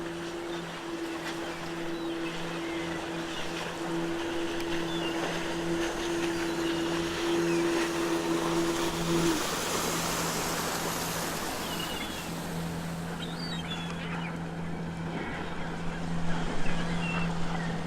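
A boat ploughs through heavy ocean waves in the video game NiBiRu: Age of Secrets, a steady loud engine drone with a sustained hum and rushing water wash running throughout, no voices.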